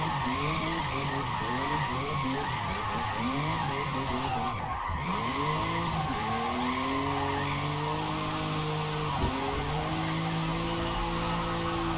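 A Toyota Supra drifts in Forza Motorsport, its tires squealing in long sustained wails over a loud, continuous engine drone that rises and falls as the car slides, with no talking.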